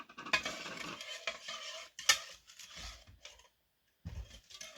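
Sugar being stirred into bread dough ingredients in a bowl, close bursts of scraping and swishing spoon strokes with a sharp clink midway, broken by brief pauses including a near-silent gap near the end, no talking.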